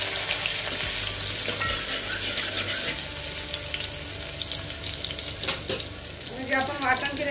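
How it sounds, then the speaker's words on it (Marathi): Finely chopped onion frying in a couple of spoons of hot oil in a pot, a loud continuous sizzle throughout with a brief clatter of stirring near the end. "एका पातेल्यामध्ये 2 चमचे तेल घेऊन तेल गरम केलेलं आहे. त्यात टाकलेला एक छोटासा कांदा,"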